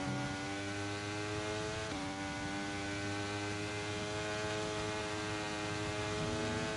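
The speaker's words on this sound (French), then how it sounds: "Le bruit du moteur est saccadé" A Formula 1 car engine in the racing game F1 23 drones steadily with a stuttering, uneven tone and a brief dip in pitch, loud and continuous with no talk.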